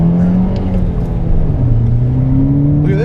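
A modified Volkswagen Jetta GLI with a 6-speed manual accelerating at full throttle, heard from inside as a loud, steady engine drone whose pitch climbs smoothly, dips briefly at a shift, then rises again.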